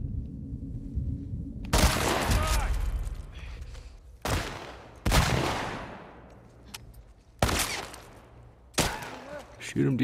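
Gunfire in The Last of Us Part 2 on Ultra Hard: five loud, sharp shots echo out across about ten seconds, each followed by a long reverberant decay, over a low background rumble.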